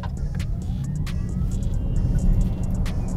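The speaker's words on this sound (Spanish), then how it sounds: "Y la verdad es que este carro arranca impresionante." A BYD Tang EV electric SUV in Sport mode launches at full throttle, giving a steady, loud low rumble of motor and road noise that swells slightly partway through, with no talking.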